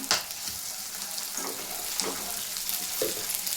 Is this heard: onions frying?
yes